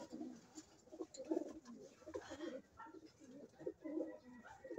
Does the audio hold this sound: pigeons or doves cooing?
yes